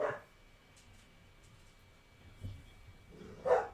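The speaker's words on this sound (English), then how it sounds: "They bark at everything. Especially the dog you hear right now. Freaking Beagle Bulldog." A beagle bulldog mix dog barks a few short times indoors, with one bark near the start and a louder pair toward the end, separated by quieter room noise.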